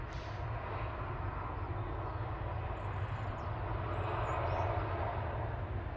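Continuous broadband aircraft roar as a flight from Amsterdam touches down at Manchester Airport, steady and fairly loud throughout with no talk.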